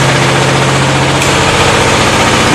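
Air-cooled single-cylinder diesel engine coupled to an eddy current dynamometer on a test bench, running with a loud, steady chugging drone and strong low hum, continuous and close with no talk.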